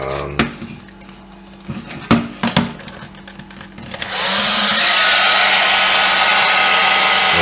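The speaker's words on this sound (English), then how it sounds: "I'm using a heat gun because it's a little bit quicker than a hair dryer" A few clicks and knocks, then a steady, loud rushing roar of hot air from a heat gun starts and holds to the end, drying inside a dripping tap.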